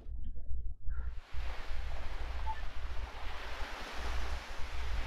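Ocean waves wash in a romance video game, Tokimeki Memorial Girl's Side 2, a soft continuous surf hiss with a low rumbling undertone and a brief chime, no talking.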